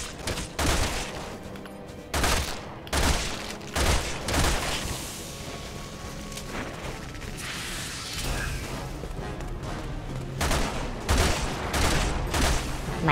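Gunfire in the video game Resident Evil 6, a rapid run of loud sharp shots and bursts with booming impacts over a dense game soundscape.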